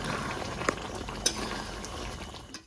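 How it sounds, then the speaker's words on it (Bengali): Kasuri methi frying into a mutton kosha curry in a pan, a steady low sizzle throughout with a few brief clinks of a spoon stirring against the pot, close by and with no talk. "এবার নামাবার সময়টি কিন্তু আমি এটা দিয়ে দেবো কাস্তুরি মেথি, দিয়ে ভালো করে ভেজে দেবো"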